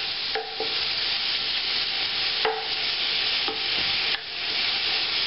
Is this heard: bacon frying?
yes